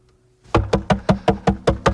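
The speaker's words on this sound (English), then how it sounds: "let me in, please open the door" Knocking on a door, a steady series of about seven firm, evenly spaced raps after a brief quiet start, close and loud with no talking.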